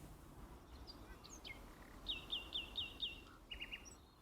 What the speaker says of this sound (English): A lot of birds in the audio there.